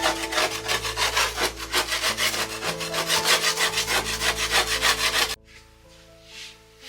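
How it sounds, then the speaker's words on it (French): Ceramic clay is scraped off a surface in a pottery studio with loud, rhythmic back-and-forth rasping strokes, up close, which stop abruptly and leave near silence. "je vais gratter et récupérer un maximum de terre qu'il y a ici"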